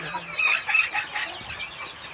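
A small hen clucking repeatedly while laying an egg, close and fairly loud, in quick uneven bursts of cackling calls.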